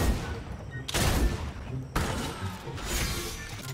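Shotgun blasts in the video game Fortnite: two heavy, broadband bursts about a second apart, each with a loud sustained roar and rumble, close and dense, with game noise between them.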